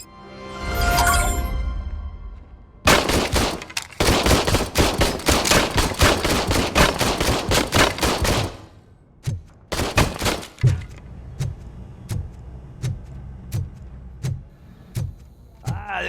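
Rapid bursts of gunfire from the RoboCop video game, a long sustained stretch of fast repeated shots followed by a handful of separate single shots spaced out over quieter game ambience.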